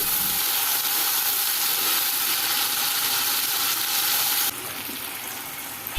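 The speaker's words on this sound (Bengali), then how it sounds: "এখন আবারও সবগুলো উপকরণ খুব ভালোভাবে নেড়েচেড়ে মিশিয়ে নিচ্ছি।" Onion with ginger-garlic paste frying in a pan, a loud, bright, continuous hiss of sizzling that cuts down abruptly near the end to a quieter level, with a brief knock at the very end.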